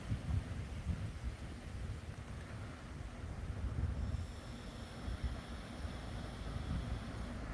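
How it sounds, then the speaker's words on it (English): Distant thunder rumbling as a low, continuous roll beneath steady wind and outdoor noise, faint and far off with no voices. "I just heard some thunder."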